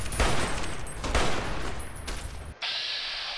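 Several loud, close gunshots from a firearm in the modded game Fallout New Vegas, booming blasts spaced a second apart over a thick wash of game noise, ending abruptly into quieter hiss.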